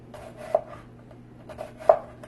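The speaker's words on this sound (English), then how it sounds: "So I'm gonna cut it in thirds, although you could do just straight slices, and then you wanna very thinly slice it." Knife thinly slicing an onion on a cutting board for a pomegranate barley salad, giving two distinct chopping knocks about a second and a half apart, close and fairly quiet with no talking.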